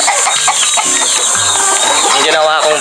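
Pet chickens cluck at feeding time, giving loud, close, overlapping clucks and squawks that run the whole time without a break.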